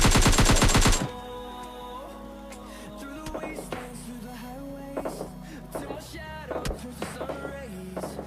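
A loud, rapid burst of automatic gunfire opens a PUBG Mobile Lite squad match, cutting off after about a second into quieter in-game sounds and scattered softer shots.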